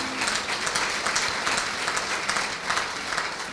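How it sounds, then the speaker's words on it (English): Applause at a charity auction for a veterans' alliance, the crowd clapping for the winning bidder after a sleeping bag sells; a sustained, dense patter of many hands, fairly loud and steady throughout, without speech. "Give him a round of applause, guys."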